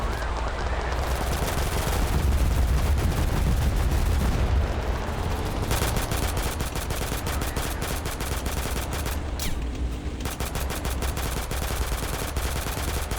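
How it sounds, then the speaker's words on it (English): Sustained heavy gunfire from the Total Conflict: Resistance video game: dense machine-gun bursts and rattling shots run loud and continuous throughout, with brief dips between volleys and no voices over it. "He's taking a lot of fire."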